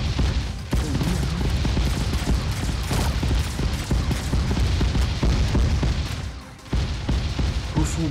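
Dense bursts of rapid gunfire in the video game Sausage Man crackle almost nonstop, with sharp booms mixed in and a brief lull near the end.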